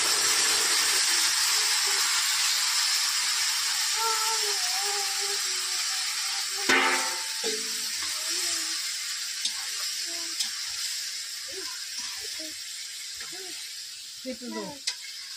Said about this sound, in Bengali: মশলাটা কষানো হয়ে গেছে, এখন সবজিটা দিয়ে দেবো।